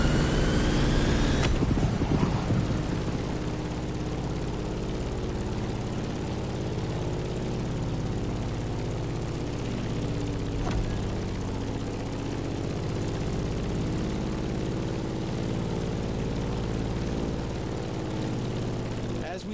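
A continuous propeller engine drone of a Grumman F8F Bearcat fighter in the video game The Crew Motorfest hums steadily, with a brief louder burst near the start, then an even, sustained aircraft roar throughout.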